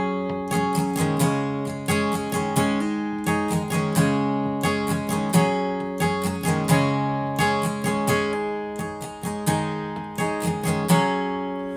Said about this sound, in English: So altogether a little faster, it would sound something like this with the strumming.